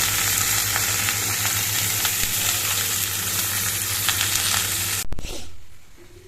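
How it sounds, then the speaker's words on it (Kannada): Ingredients for bassaaru, a Kannada lentil-and-greens dish made here with sunn hemp flowers, frying steadily in a hot pan with a dense, continuous sizzle and occasional stirring scrapes, stopping abruptly near the end before a fading hiss. "ಇದಕ್ಕೆ ಹಾಕಿ ಎಲ್ಲ ಸ್ವಲ್ಪ ಫ್ರೈ ಮಾಡ್ಕೊತೀನಿ"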